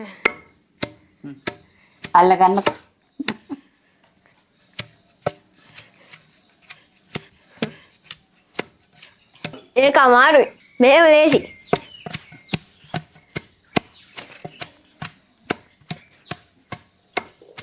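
Ingredients for a herbal porridge pounded by hand: sharp, dry thuds repeat in a steady, fairly quick rhythm, close by, with short bursts of conversation between the strikes.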